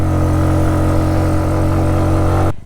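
A motorbike engine drones steadily and loudly at a constant pace while riding toward a village in Ethiopia, then cuts off abruptly at the end.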